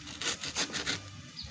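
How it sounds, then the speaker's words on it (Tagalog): A sharp hand saw cutting through a tough coconut frond stalk, about five quick rasping back-and-forth strokes, close and fairly quiet with no talking. "Ito muna ang ginamit kong pang putol sa palapan ng nyug dahil napaka-puyo nito"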